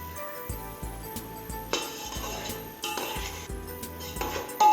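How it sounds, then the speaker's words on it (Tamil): Ginger garlic paste sautéed in a pan for a drumstick biryani, heard as close clinks and scrapes of a metal spoon against the cookware in irregular bursts, with a soft frying hiss underneath. "இஞ்சி பூண்டோட பச்சை வாசனை போகிற அளவுக்கு நல்லா வதக்கி எடுத்துருவோம்"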